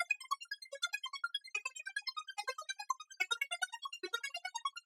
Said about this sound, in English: This is our spectral resonator track that's getting input from the ARP track.